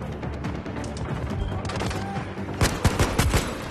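Automatic gunfire in the shooter game Zero Caliber 2, set at a military harbor, with a dense crackle of shots throughout and a louder burst of sharp bangs near the end.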